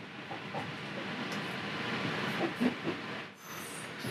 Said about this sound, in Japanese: お隣には名鉄さんの列車が走ってます。